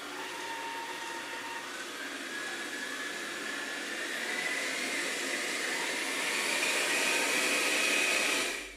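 A Dreame L40 Ultra robot vacuum suctions on a hard floor, a steady airy whooshing hum measured from about one metre away, rising slightly in loudness toward the end, with no talking.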